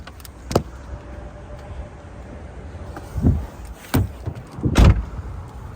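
Hood of a 2016 Hyundai Genesis Coupe being opened: a sharp click near the start, then a creak and a few rattling clunks and a final bang as the hood is released and raised, close by with no talking.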